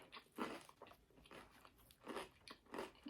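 Crunchy bites into a homemade chicken sandwich, several crisp crackling bursts with chewing in between, close and fairly quiet, no talking.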